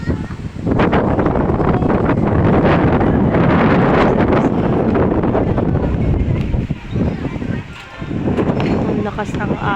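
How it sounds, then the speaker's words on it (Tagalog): Strong wind roars steadily into the microphone, with a rushing, crashing texture of waves nearby; voices are faintly audible beneath it. "Napakalakas ng hangin."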